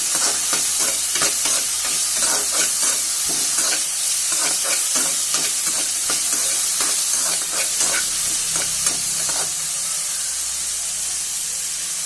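Vegetables sauté with rock salt in a pan for a chickpea and brinjal kuzhambu, close continuous sizzling broken by repeated scraping stir strokes at an uneven rhythm.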